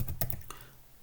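Keys clack on a computer keyboard while a name is typed into an Excel formula, a quick run of a few close, light taps that fade out, with no speech.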